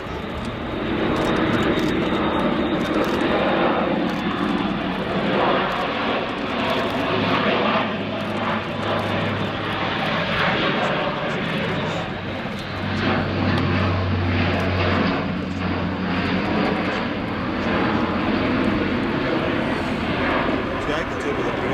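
An Airbus A400M Atlas turboprop military transport drones steadily overhead in a slow airshow flying display, engine hum loud and continuous throughout, a low throbbing tone swelling in the middle while a voice talks over it.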